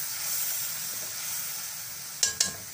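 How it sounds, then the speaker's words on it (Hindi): Spices and fenugreek leaves frying in a pan for spinach kofta curry, a steady close sizzle and hiss throughout, broken near the end by two quick clinks of a utensil. "जो मेथी है हमारी वो भी इसमें डाल देंगे ताकि वो अच्छी तरह से मसाले के साथ भून जाए।"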